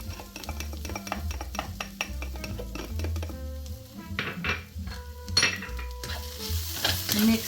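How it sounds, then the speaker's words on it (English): Onions, garlic and fresh ginger sizzle in a pan for Thai green curry shrimp, with a utensil scraping and clinking against the pan as they are stirred. The frying is steady and close, with no voices. "we're gonna add 2 to 3 cloves of garlic"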